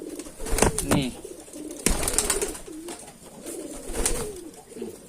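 Racing pigeons coo close by, a silver male and a white female, giving several throaty rolling calls with short pauses between them.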